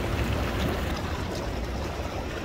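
Water churns in a hot tub jacuzzi, a steady rushing and bubbling wash with no breaks, close and moderately loud throughout.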